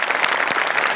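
A studio audience at a Marathi comedy show claps loudly in a brief, dense burst of applause.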